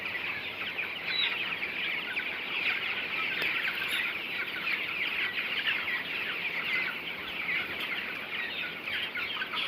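A crowded flock of broiler chickens clucks and jostles nonstop, a dense, busy chorus of overlapping calls that stays close and loud throughout, with no one talking.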